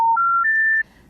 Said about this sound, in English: those 3-note special information tones that signal a non-working number